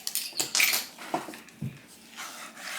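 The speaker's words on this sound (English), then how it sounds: "I'll stir this in real quick." A spoon scraping and clinking against a bowl while chocolate chip cookie dough is stirred, a few sharp metallic taps and scrapes at close range, with quiet gaps between them.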